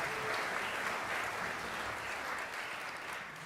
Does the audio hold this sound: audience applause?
yes